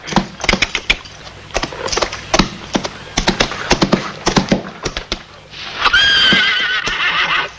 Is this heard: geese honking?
no